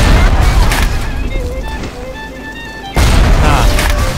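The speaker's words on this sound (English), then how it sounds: "You don't mess with the rocket turrets" Rocket turret shots in the game Bioshock: a heavy booming burst opens the clip, then a quieter stretch of tonal game sounds, followed by a second loud blast near the end.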